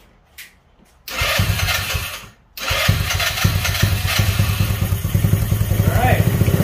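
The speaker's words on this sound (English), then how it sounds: "That is a cold start." A go-kart engine, fitted with new performance parts, cold-starts after a brief failed crank and a pause, then catches and settles into a loud, steady, throbbing idle close by.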